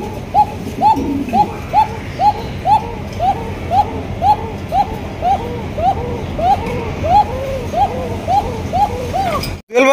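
A Bashiraj pigeon cooing in a steady repeating series of rounded, close coos, roughly two a second, over a low background rumble, with a sharp knock just before the end.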